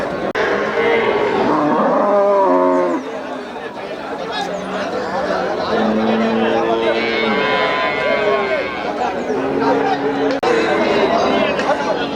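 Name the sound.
cattle at a cattle market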